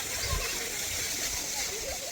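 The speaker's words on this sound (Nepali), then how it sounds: "चपेटीको झरना है त साथीहरू" Chapeti waterfall on the Ratuwa riverside, a steady broadband rush and splash of falling water, close and continuous, with faint low rumbles underneath.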